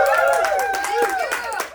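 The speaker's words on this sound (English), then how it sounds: "So applaud to yourself. Applaud yourself." A room of people clap their hands in applause, a steady patter of claps running beneath voices that talk and call out over it throughout.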